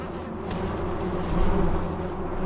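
Diadasia bees buzz around prickly pear cactus flowers in the Sonoran Desert, a steady low droning hum from many insects that swells briefly midway.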